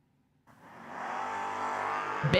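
A Camaro drag race car at a footbrake drag racing event launches off the line; its engine roar bursts in and builds to a loud, sustained blast, ending in a sharp crackle.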